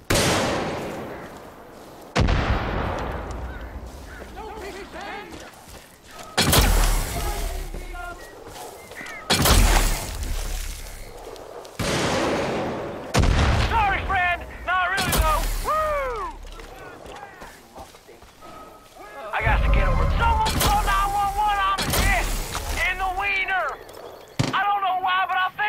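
Gunfire in the video game Far Cry 5: repeated sharp shots and bursts, some with ringing metallic tails, spread across a firefight alongside mechanical clicks, with voices speaking at times.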